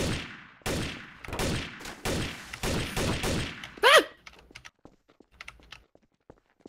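Video game gunfire aimed at a record: about six loud, evenly spaced shots in a rapid burst, then a brief shrill squeal and scattered faint clicks fading out.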